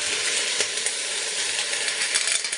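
Pieces of liver frying in hot cooking oil, a steady close sizzle with small crackles and pops throughout, heard alone without talk.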